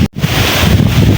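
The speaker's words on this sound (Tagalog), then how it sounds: "medyo malakas-lakas na rin yung hangin dito sa amin" Strong wind from Typhoon Crising blasts across a microphone by the sea near fishing boats, a loud, steady roar with one brief dropout.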